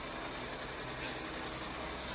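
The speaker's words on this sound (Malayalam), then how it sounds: "ഫാനിൻ്റെ സൗണ്ടാണ് നിങ്ങൾ കേൾക്കുന്നത്." An electric fan runs in a resort room at Parunthumpara with a steady, even whirring hum, constant and unbroken throughout, with no voices over it.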